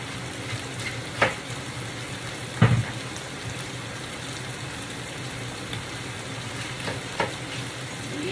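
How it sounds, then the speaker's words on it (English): Breakfast food frying in a pan gives a steady, moderately loud sizzle throughout, broken by a few sharp clicks and taps of utensils, with no one speaking. "So we leave that to fry. Yes, that will fry."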